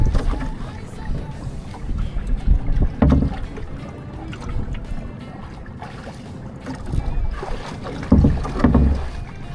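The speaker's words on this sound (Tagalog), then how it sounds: "Dito naman tayo sa maalong karagatan." Rough sea waves slap and rush around a small fishing boat out after tamban, with gusty wind buffeting the microphone in uneven surges and people talking intermittently over the water.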